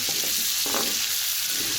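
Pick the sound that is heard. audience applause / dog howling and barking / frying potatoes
frying potatoes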